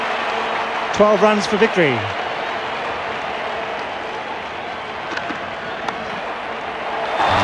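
A home crowd at the Gabba in Brisbane roars and cheers during a 1986 World Series Cup cricket match between Australia and India, a broad wash of applause with a commentator talking over it.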